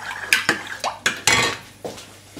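Metal clinks and scrapes from a cooking pot as a piece of butter goes into milk heating for a sheet-cake filling, several sharp knocks and clatters in an uneven sequence, close and fairly loud.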